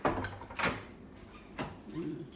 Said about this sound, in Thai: ปิดประตูก่อนค่ะ